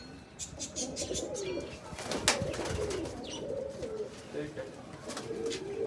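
A female pigeon coos in soft low repeated calls amid a rustling outdoor background, with someone talking over it and a sharp click partway through.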